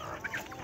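Chickens cluck as they are fed corn in a farmyard with a duck nearby, a couple of short clucks close by over steady outdoor background noise.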